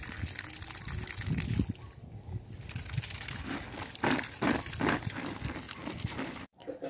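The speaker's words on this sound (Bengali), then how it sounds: "কলের জলে ভালো করে ধুয়ে নিচ্ছি।" Jujube fruits being washed by hand under running tap water, with splashing, gushing bursts and rustling as the fruit is rubbed, close and uneven in rhythm.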